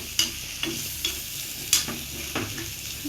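A prawn stir-fry being stirred and tossed in a sizzling pan, with several distinct scrapes and clatters of a spatula over a continuous close frying hiss.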